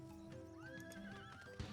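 A horse neighs in Final Fantasy XIV, a bright rising whinny lasting about a second over steady clip-clop hoofbeats and ambient game music.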